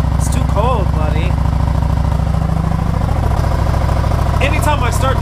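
A Yamaha XSR900 motorcycle with an M4 exhaust idles steadily close by with a low throbbing rumble, as a person speaks over it.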